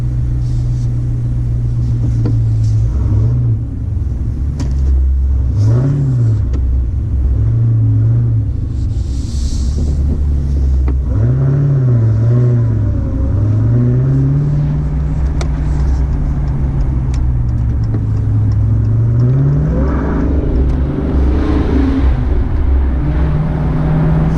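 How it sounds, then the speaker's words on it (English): A Dodge Challenger Hellcat with a six-speed manual rumbles loudly from inside, its engine note climbing and dropping repeatedly through gear changes as it accelerates, with no talking. "So, Militia 911 bought a Challenger Hellcat, 6-speed"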